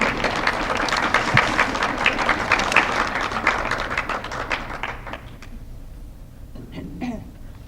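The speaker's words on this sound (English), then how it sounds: "Can we please give her a warm round of applause?" Audience applause rings out for Dr. Martinez at an anniversary celebration for women's, gender and sexuality studies, a dense, steady burst of many hands clapping that thins and fades over the last couple of seconds.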